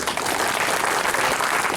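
Audience at a meeting clapping, a brief dense burst of applause from a crowd, steady and close throughout.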